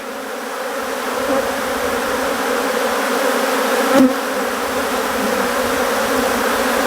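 Africanized honey bees swarm over an opened hive in a dense, unbroken drone, loud and close, with one sharp knock midway.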